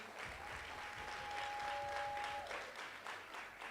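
An audience at a graduation and white coat ceremony applauds, a soft, distant wash of clapping throughout, with a brief thin tonal whine appearing midway.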